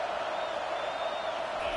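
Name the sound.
home crowd cheering at a college football game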